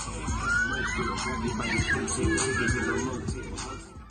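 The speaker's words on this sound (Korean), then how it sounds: "회전 속도가 점점 빨라지면서 놀이기구가 위로 올라가자 탑승한 어린이들은 환호성을 지릅니다" Children riding an amusement park ride in Russia shout and cheer in a steady, excited crowd roar, with music and mechanical noise underneath.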